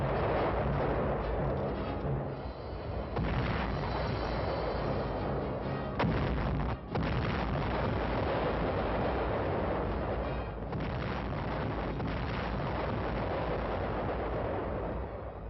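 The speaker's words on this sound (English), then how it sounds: "Our artillery went into action." WWII artillery firing during the invasion of southern France, repeated heavy booms and blasts over a dense, continuous roar from an old band-limited archival recording, loud with no talking.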